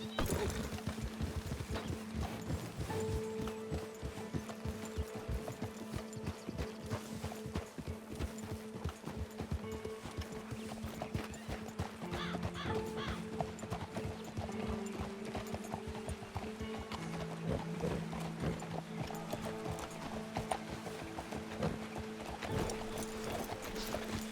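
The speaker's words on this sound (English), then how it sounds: "Will you get control of that horse?" Steady clip-clop of horse hooves throughout in the video game Red Dead Redemption 2, with occasional whinnies and faint background noise, close and continuous.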